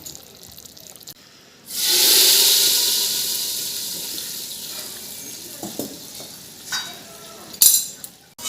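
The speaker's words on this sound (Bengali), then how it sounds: "সাঁতলে হবে খিচুড়িটা" Khichuri being sautéed in a pan, a sudden loud sizzle that bursts in and slowly fades into a softer frying hiss, with a few stirring clatters and taps near the end.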